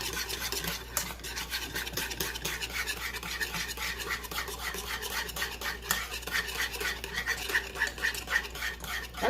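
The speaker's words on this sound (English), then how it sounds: "I'm still like moving it around the bottom of the pan" A beef stock cube scrapes around the bottom of a gravy pan in a continuous, rapid rasping stir, close and steady, with no voices.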